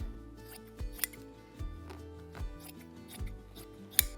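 Scissors snipping excess upholstery fabric from a dining chair seat pad, several separate cuts spaced across a few seconds, close and quiet in a still room with no talking.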